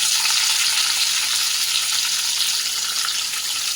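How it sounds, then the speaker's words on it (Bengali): Onion and tomato sizzle and fry in hot mustard oil in a wok, a steady, dense crackling hiss that holds close and even throughout with no voices. "পেঁয়াজটা প্রথমে ভালো করে ভেজে নেব"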